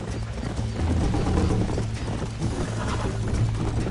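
A horse galloping in the video game Red Dead Redemption: quick, continuous hoofbeats with heavy low-end thumps, close and loud, layered over a constant rumbling game backdrop.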